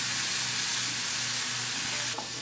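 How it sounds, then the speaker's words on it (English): Half a cup of onion and three cloves of garlic sauté in oil, a dense, close, steady sizzle that runs unbroken and ends with a short clink, with nobody talking. "Then you want to saute 1/2 cup of onion and 3 cloves of garlic."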